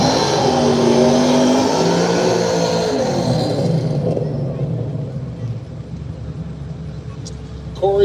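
Drag race cars, a Camaro and an S550 Mustang, rev their engines with rising and falling roars at a small tire arm drop drag racing event, loud at first and easing off, with an announcer talking over them.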